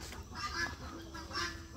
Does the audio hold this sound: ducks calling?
yes